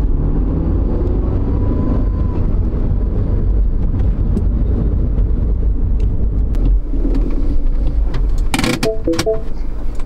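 A 2012 Mini Cooper engine drones steadily at close range with road rumble, followed by a few metallic clicks and rattles near the end.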